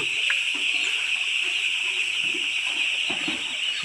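Fresh water pours into the waterers of a poultry farm in a steady, close trickle and splash, with faint bird calls in the background.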